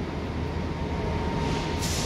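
A train at a railway station in Llandudno, UK gives a steady low rumble, with a faint tonal whine and a brief rise of hiss near the end.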